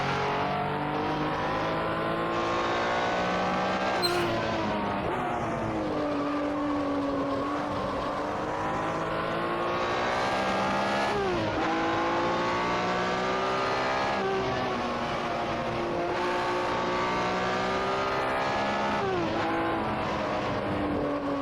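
A 904 race car in a 1964 World Sportscar Championship racing game mod screams around the Nurburgring, its engine revving hard and continuously with repeated rises, falls and gear changes and no talking.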